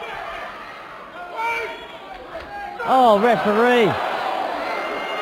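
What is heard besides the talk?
wrestling crowd reacting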